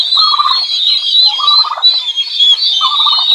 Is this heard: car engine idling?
no